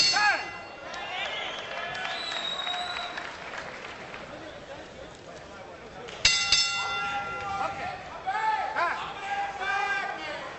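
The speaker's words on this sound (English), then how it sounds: "now the bell brings him out for round number 8" At a super bantamweight boxing bout, the ring bell clangs to start round 8 with sharp metallic rings cutting through crowd noise, applause and chatter, while a commentator talks throughout.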